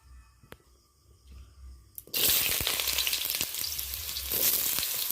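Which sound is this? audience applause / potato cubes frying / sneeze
potato cubes frying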